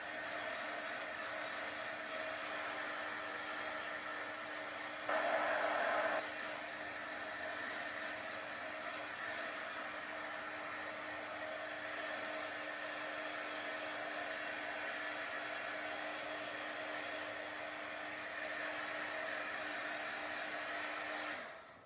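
A hair dryer blows steadily on chalk paste for about twenty seconds, a constant close whirring hiss with a brief louder burst near the start before it cuts off at the end.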